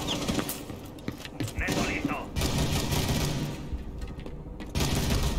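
Shotgun blasts in Rainbow Six Siege ring out amid dense, noisy game action, with heavy reports and thuds throughout and a voice talking at times.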